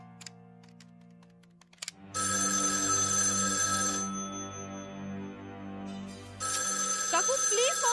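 A telephone rings loudly and persistently with a bright electronic ringtone that starts after a couple of soft clicks and keeps going, one break in its pattern, while people talk faintly in the background.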